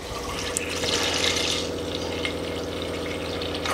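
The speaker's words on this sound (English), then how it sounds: "a good old glug of milk." Milk pouring into a big saucepan, a steady, continuous liquid gush at moderate volume, heard alone without talk.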